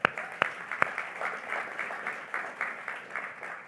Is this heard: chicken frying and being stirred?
no